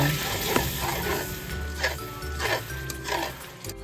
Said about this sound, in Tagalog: Antayin nating mag-caramelize ang ating sugar.